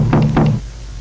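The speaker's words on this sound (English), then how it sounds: "The door creaked as she gently knocked on it" Two firm knocks land on a wooden door at a porch entrance, close and hollow, followed by quiet.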